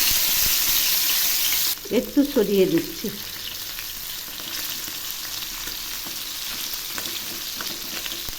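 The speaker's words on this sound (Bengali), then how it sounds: "তেল গরম হয়ে গেছে, এখন মাছগুলো ছেড়ে দিলাম।" Tangra fish dropped into hot oil in a pan, a sharp crackling sizzle that flares briefly then settles into a steady fry, with a short spoken remark.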